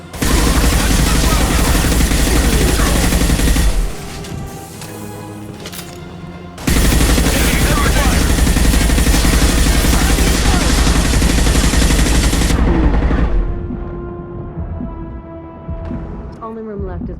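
Sustained, dense gunfire from the sci-fi shooter Mass Effect 2, loud and continuous in two long stretches with a brief lull between, then fading into quieter ambient game sound; a voice shouts a command.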